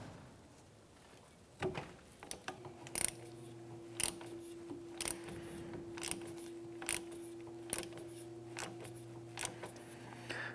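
A caliper piston tool twists a brake piston back into the caliper of a 2011-2016 Hyundai Elantra, giving about a dozen sharp ratcheting clicks at a slow, regular pace over a low steady hum.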